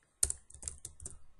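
A short burst of keystrokes on a computer keyboard while code is typed, about half a dozen crisp clicks in quick, uneven rhythm, close and clear.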